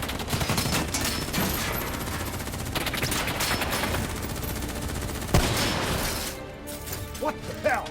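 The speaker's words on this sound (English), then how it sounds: "Who's shooting?" Dense gunfire in a Call of Duty Black Ops 3 cutscene, sustained automatic bursts and crashing impacts filling the scene, with shouted voices mixed in and a sharp loud crack near the end as the shooting thins out.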